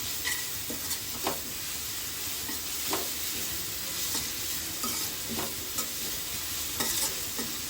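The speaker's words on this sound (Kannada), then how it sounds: "ಇದನ್ನು ಅಷ್ಟೇ ಸ್ವಲ್ಪ ಹಸಿಸ್ ಮೇಲೆ ಹೋಗೋರ್ಗು ಹಾಗೆ ಫ್ರೈ ಮಾಡ್ಕೊಳ್ಳೋಣ" Ginger garlic paste and curry leaves fry in a pan with a steady, close sizzle, punctuated by regular scraping strokes of a spoon stirring throughout.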